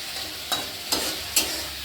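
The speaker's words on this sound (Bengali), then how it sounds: "মাছ ভাজতে বেশি সময় লাগে না, খুব তাড়াতাড়ি ভাজা হয়" Fish and small prawns fry in hot oil with a soft, continuous sizzle close by. Three sharp spatula scrapes or clacks against the pan land at roughly even intervals.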